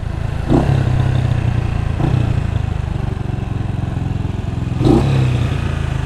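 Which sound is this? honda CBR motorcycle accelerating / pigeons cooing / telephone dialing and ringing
honda CBR motorcycle accelerating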